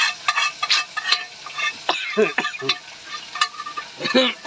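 Fish frying in a pan inside a lorry, with close sizzling and repeated scraping stirs of a utensil in an irregular rhythm, fairly loud and without talk.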